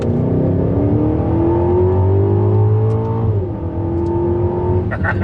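An Aston Martin DBX in sport mode accelerates under load from inside the cabin, its loud exhaust note climbing steadily through one gear, dipping briefly at a shift, then pulling again.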